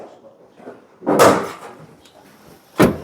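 An old garage door on a barn-find building is forced open with a loud scraping, rattling rush, followed by a second sharp clunk a moment later.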